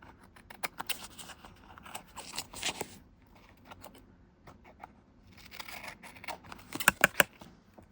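Scissors trim excess paper from a collage in quick clusters of crisp snips, close and fairly quiet. Pauses fall between the groups, and a sharper run of cuts comes near the end.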